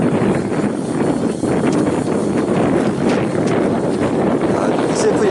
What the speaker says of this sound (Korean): 오늘 바람 엄청 불어요, 지금.